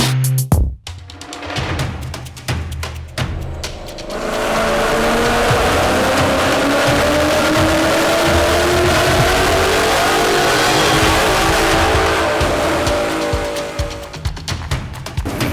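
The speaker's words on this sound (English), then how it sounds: "And now we can get this first dyno run in and see what kind of power we made." A Ford Mustang in a Pony Wars build competition makes a dyno pull: the engine starts with a few blips, then climbs in one long sustained rev, loud and close, and drops away near the end.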